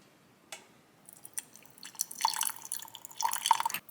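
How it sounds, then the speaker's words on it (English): Boiling water is poured into a small glass jar holding about a teaspoon of matcha, giving faint, sparse drips and light splashes that grow into a soft trickle near the end. "I boiled some water, so I'm going to add a little bit of boiling water."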